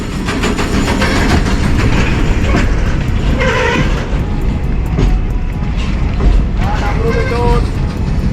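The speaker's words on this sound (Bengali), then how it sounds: "বাকি ওই যে ওখানে ট্রেনটা বহুত লম্বা" A long train rumbles past with a continuous loud roar and rolling clatter, heard up close, while people talk over it.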